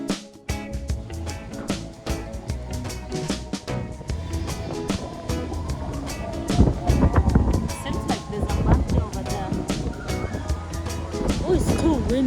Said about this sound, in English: windy, too windy.